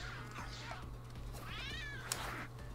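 A fat cat meows in the Tokyo Jungle video game, with two drawn-out, wavering calls over a steady low game hum and no talk.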